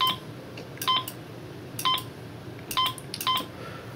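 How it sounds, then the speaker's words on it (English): Short electronic beeps from an Arduino pinball game repeat in a quick pattern, pairs of high tones sounding about once a second over a quiet background hiss. "I'll turn the volume up so you can hear the"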